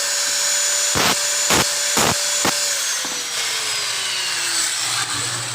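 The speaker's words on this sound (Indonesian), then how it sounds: "kita gerinda dulu ya" Angle grinder working wood for a Shimizu roller, a steady loud whine running throughout, broken by several sharp bursts as the disc bites, and the pitch slowly falling toward the end.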